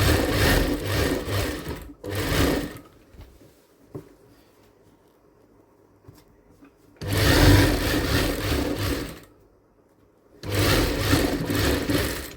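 A sewing machine stitches a designer blouse in three long, loud runs separated by quiet pauses with faint handling noises, close and without talk.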